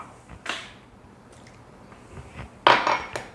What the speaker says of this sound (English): To this, I'm going to add 4 eggs.